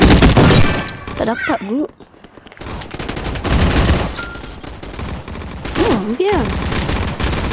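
Bursts of rapid automatic gunfire crackle loudly in a Roblox gunfight arena, broken by brief pauses, with excited speech between volleys.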